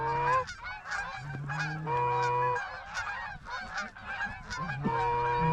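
A flock of geese honks repeatedly in an open field during a hunt, overlapping nasal calls in a loud, continuous chorus with only faint talk beneath.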